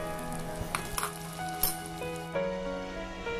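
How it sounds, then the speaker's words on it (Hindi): Carrots sizzle steadily in a hot pan with occasional stirring clinks, over soft background music. "गाजर, इसको भी आपको यहाँ पे फ्राई करना है।"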